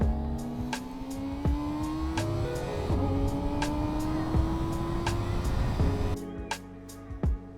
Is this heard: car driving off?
yes